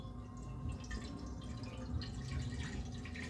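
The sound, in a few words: water being poured into a pot for cooking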